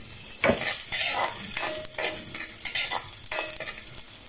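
Onion and garlic sautéing in a pan after ginger, a steady loud sizzle with repeated stirring scrapes and utensil clinks, close up and with no talking.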